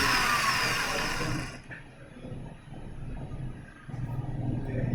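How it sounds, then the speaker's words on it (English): An electric motor in a pendulum test rig turns clockwise with a steady high whine, then drops to a lower, quieter mechanical hum as it slows and reverses. "So you can see the motor starts rotating clockwise."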